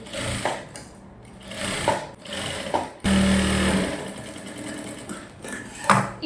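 A sewing machine stitches lining around the neck of a short gown in several close bursts of rapid whirring, separated by short pauses, with one longer run near the middle.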